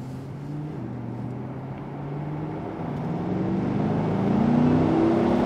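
A 2020 Chevrolet C8 Corvette drives at low speed, its engine a steady rumble that builds slowly as it accelerates, with harmonics rising and the noise growing louder toward the end, with no talk.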